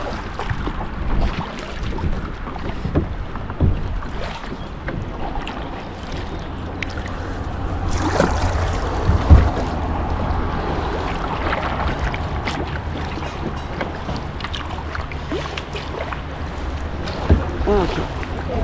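Boat moving through water at MacGregor Point Provincial Park, with rushing water, splashes and paddling knocks at close range and some wind, continuous with louder bursts.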